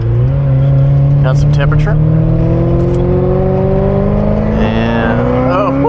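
A Ferrari 348 engine revs and pulls while driving on a road, a steady rising drone that opens up toward the end, close and loud, with someone talking over it.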